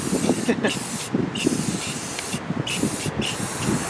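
Aerosol spray paint hisses in short repeated bursts beneath a rusty 2011 Hyundai Elantra Touring, with a piece of 2x4 blocking overspray, close and fairly loud, each spray broken by brief pauses.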